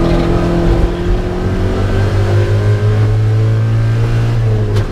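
A Mazda Miata race car in an endurance race passes a BMW 330 for position, its engine droning loud and close at high revs with a steady whine and rising pitch, heard alone without voices.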